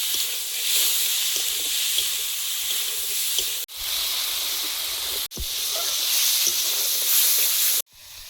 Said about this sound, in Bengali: চিংড়ি মাছ দিয়ে দেবো মশলার সঙ্গে ভালোভাবে কাঁকড়াটা কষিয়ে নেব